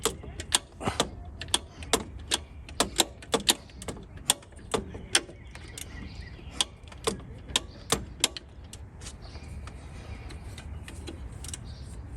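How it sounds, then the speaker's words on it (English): A 14 mm wrench works loose the lower alternator bolt on a Toyota Corolla, giving a quick run of sharp metallic ratcheting clicks up close for about eight seconds before the clicking thins to a few scattered ticks. "we're going to get our 14 and break the bottom here loose"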